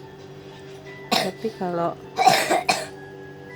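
A child with a cough and cold coughs in several harsh bursts in a short cluster. An adult voice speaks briefly between them.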